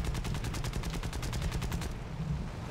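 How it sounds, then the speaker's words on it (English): Aircraft machine guns firing in the War Thunder game, a fast steady burst of close loud shots for about two seconds that abruptly stops as the guns jam, leaving engine drone. "look how quickly my guns jam right there"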